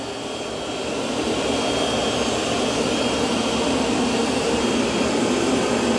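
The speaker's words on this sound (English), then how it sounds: "It's doing a good job vacuuming that carpet." A Roborock S8-series robot vacuum runs on carpet, giving a steady, fairly loud broadband whoosh and motor hum that holds unchanged for several seconds with no talk.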